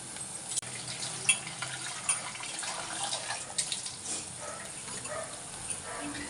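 Raw banana pieces are washed in a bowl of water, with soft sloshing, light splashes and a few sharper knocks and clinks close by, against a constant faint hiss.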